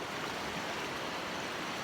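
Water of Stony Creek rushes steadily past a trail stream crossing in the woods, a continuous broad hiss and gurgle with no pauses, fairly close and even throughout.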